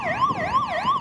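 An evacuation drill siren for a possible Cotopaxi volcano eruption in the Valle de los Chillos wails up and down in a fast rising-and-falling sweep, loud and clear with no voices.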